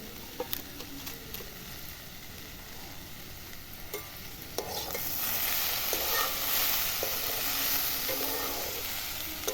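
Shola kochu (taro) frying in a pan with salt while being stirred, a steady sizzle with scraping stirs that swells louder partway through, close and with no talking.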